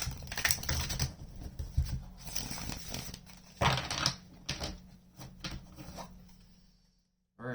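Close, crisp bursts of tarot cards being shuffled, riffling in quick irregular flurries with short pauses between, ending in near silence.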